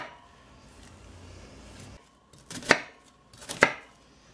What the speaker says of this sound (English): You're just going to want to come and add slits on this onion